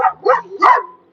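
A dog outdoors in a garden barks three or four times in quick, loud, close succession, with a whiny edge to some of the calls.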